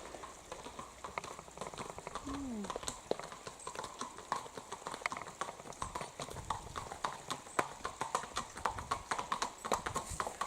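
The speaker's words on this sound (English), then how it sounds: "we have a couple of horses here coming down." A couple of horses walking past on a country road on the North York Moors, hooves clip-clopping in an uneven, overlapping rhythm, moderately close and faint in outdoor ambience with a brief voice.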